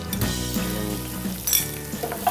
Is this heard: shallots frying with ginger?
yes